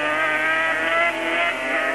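500cc racing motorcycles at the 1982 Donington Park race, a loud, sustained high-pitched engine scream holding steady with slight dips, close and alone without talk.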